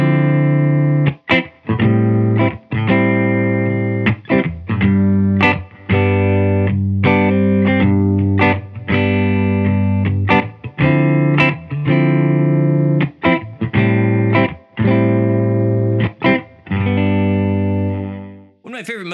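McGinney Skylark electric guitar through a Silk Tone amp with an Alexander Luminous Phaser pedal, playing rhythmic strummed chords with choppy stops and swirling modulation, loud and close, ending in a fading sustained chord.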